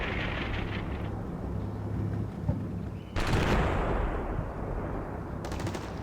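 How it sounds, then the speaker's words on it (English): Mortar and artillery fire in the video game Combat Mission Shock Force, heavy booming blasts and rumbling detonations over a low continuous battlefield drone, with a sharp loud burst midway and crackling rattles, no speech. "especially on this fire mission with the mortars"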